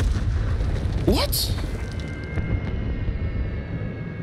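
Explosions in a Call of Duty Vanguard match burst over a constant low battle rumble, with a sharp hissing whoosh and blast early on, then fading rumbling booms, while a player talks underneath.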